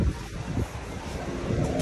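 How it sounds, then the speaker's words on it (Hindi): Cool wind blowing steadily at Hawksbay beach, a continuous broadband rush with gusty low rumble and microphone buffeting, heard alone at moderate loudness. "यहाँ पे ठंडी हवा चल रही है"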